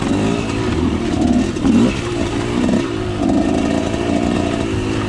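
Dirt bike engine on a trail ride, a steady close droning buzz with small rises and dips in revs as the motorcycle climbs and rolls over terrain, heard alone without talk.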